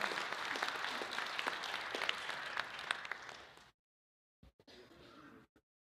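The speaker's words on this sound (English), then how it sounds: "Let's give them another round of applause" A Rotary club audience applauds for a few seconds, a steady dense patter of many hands at moderate volume that stops abruptly, followed by a brief pause and a few scattered faint claps.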